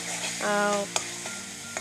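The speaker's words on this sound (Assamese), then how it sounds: "এনেদৰে ভাজি থাকিব লাগে বহুত দেৰি" Garlic paste for chutney frying and being stirred in a pan, a close, steady sizzle with scraping stir strokes and a few sharp clinks, with no talking.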